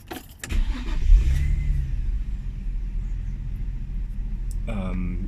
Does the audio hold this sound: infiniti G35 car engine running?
yes